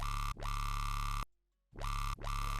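A buzzy dubstep synth bass plays sustained notes with a low-pass filter sweeping its tone, cutting out briefly for a short gap before resuming with two more notes.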